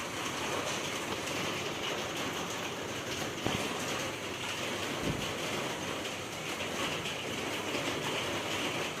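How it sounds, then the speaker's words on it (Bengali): Heavy rain falling steadily in a continuous, dense wash of noise. It stays even and close throughout, with no voices. "এখানে সকাল থেকে চরম বৃষ্টি"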